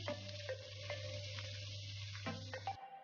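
Bacon seasoned with salt and pepper sizzles in a pan while being stirred, a steady frying hiss with soft scraping stirs over a low hum, alone and moderately quiet.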